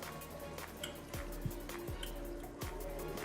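Party jollof rice simmers in a pot on a stovetop, giving off soft, steady bubbling with scattered pops and drips, fairly quiet and with no talking.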